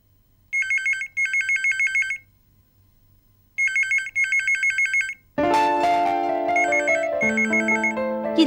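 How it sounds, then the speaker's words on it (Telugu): A telephone rings with an electronic warbling tone in repeated bursts with short pauses, then a music cue swells over the ringing toward the end. "ఇందాకటి నుంచి ఫోన్ మోగుతుంటే ఎవరు తీరేంటి?"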